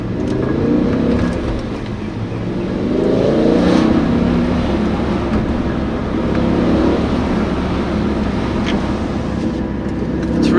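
A BMW M5 E60 with a six-speed manual pulls hard under acceleration, its engine note rising and swelling steadily from the cabin, loud and continuous with no talk over it.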